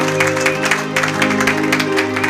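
A church congregation claps together in a steady, close patter of applause, rising over a sustained musical drone.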